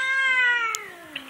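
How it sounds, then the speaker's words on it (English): An angry, overweight house cat lets out one long, loud, drawn-out yowl up close, its pitch sliding downward as it fades, with a faint click near the end. "Jay, the cat is like possessed"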